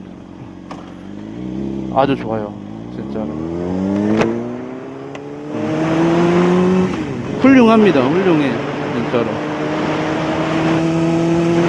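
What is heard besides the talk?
Honda CBR600RR motorcycle engine accelerating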